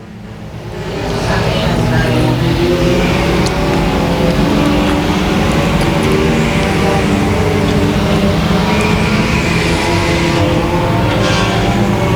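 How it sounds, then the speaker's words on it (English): Four-cylinder race cars lap an oval at Boothill Speedway, a steady, loud engine roar holding throughout with crowd-like wash and faint announcer talk beneath. "As we have 4 cylinders here, tiptoeing around the outside lane of the Boothill Speedway"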